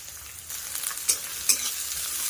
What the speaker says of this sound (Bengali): এবার এখানে দিয়ে দেবো বড় সাইজের 2টো কুচানো পেঁয়াজ।